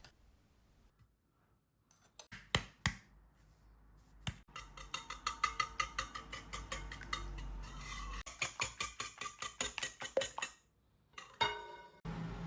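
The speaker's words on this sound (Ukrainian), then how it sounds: "Все добре перемішуємо вінчиком або виделкою до однорідності." Eggs being beaten with sugar and salt in a bowl using a whisk or fork for thin pancake batter: quick, rhythmic metallic clinks and taps against the bowl in bursts, close and crisp, with short pauses between runs.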